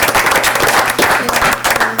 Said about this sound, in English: Let's give Lou a round of applause, everybody.